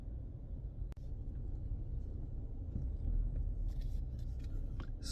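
A four-cylinder Chevrolet Malibu rental car cruises on the road, its interior filled with a steady low rumble of road and engine noise and faint higher rustles near the end.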